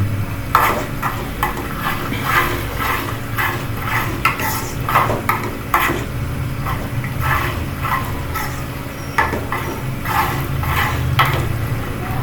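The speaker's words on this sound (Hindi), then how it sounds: "ये इसको अच्छी तरह मिक्स कर लें।" Chicken karahi stirred in a pan: continuous close scraping and clatter of a spoon against metal over a low sizzle, loud and busy throughout with rhythmic strokes, no speech.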